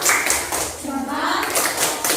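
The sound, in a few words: class clapping for group 1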